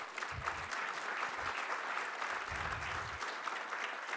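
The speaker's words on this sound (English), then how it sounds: "Let's give them a round of applause." Steady applause from an audience at a city mayor's press event, a continuous moderate wash of clapping from many people heard at some distance.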